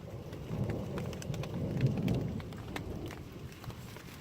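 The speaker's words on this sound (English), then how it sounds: "There's the thunder." Rain pattering on a tent's rain fly during a night storm, with a low rumble of thunder swelling and fading beneath the steady patter; fairly faint and distant overall.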